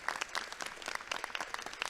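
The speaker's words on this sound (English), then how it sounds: "Let's give all of our schools a round of applause." Audience applause at a school press conference, a dense patter of many clapping hands, steady and moderately loud throughout.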